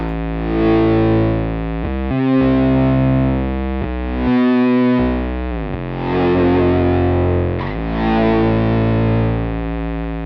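Electric instrument through a Beetronics Zzombee Filtremulator pedal in amplitude mode with its low octave constantly sounding: thick, fuzzy sustained notes that swell and fade in slow, repeating ramps, loud and up close.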